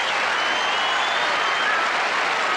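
Tennis crowd at the 1981 U.S. Open final between McEnroe and Borg applauding Borg: steady, dense clapping from a large stadium audience, even and sustained throughout with no break.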